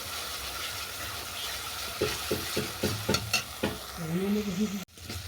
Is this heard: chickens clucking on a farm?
no